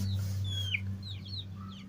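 Silkie chickens cluck in short chirpy bursts over a steady low mechanical hum, close and fairly loud.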